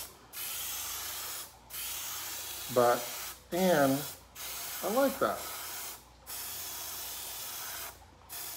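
Short hissing bursts from an aerosol spray can coat an RC car body for a splatter effect, repeated in separate blasts with gaps between, while someone talks over some of them.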